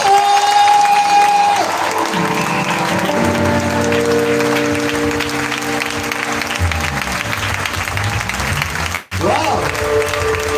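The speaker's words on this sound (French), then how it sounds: "Est-ce qu'on peut encore acclamer?" A church congregation at a revival service in Libreville, Gabon, gives sustained loud applause and cheers, steady clapping throughout with music holding underneath and a brief dropout near the end.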